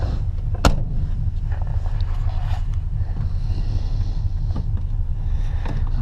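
A 1950s Mercury drives in low gear, its engine a steady low rumble under heavy wind buffeting on the microphone, with a sharp knock early on.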